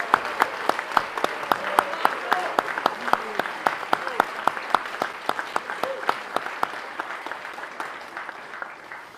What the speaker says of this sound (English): So one more round of applause for our 2023 Cum Laude inductees.